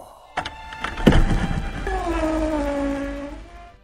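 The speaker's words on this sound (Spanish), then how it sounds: "Y la puerta se abrió." A door swings open with a thunk and rattle of the latch, followed by a long creaking hinge that slowly glides down in pitch, close and fairly loud.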